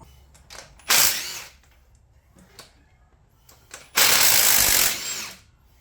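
A ratchet wrench turning out cylinder head bolts on a budget V6 engine (L67 top swap), giving two loud, sustained bursts of rapid clicking close by, with quieter metallic clinks between them.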